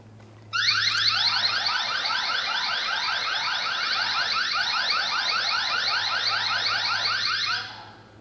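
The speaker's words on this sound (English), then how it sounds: "When someone moves your camera, the camera and home base will sound an alarm." An anti-theft alarm on a eufyCam S330 outdoor camera sounds loud and close, a rapid repeating electronic warble that runs steadily for about seven seconds before cutting off, with a faint low hum underneath.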